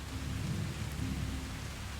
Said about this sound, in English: Crackle of a radio over the howling of the storm